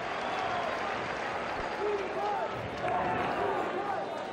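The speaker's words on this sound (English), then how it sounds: "Enthusiastic crowd here this evening." Crowd applause and cheering fill a college basketball arena during a 1979 WVU vs. Penn State game, a steady dense roar lasting throughout with scattered whistles and shouts, loud and continuous.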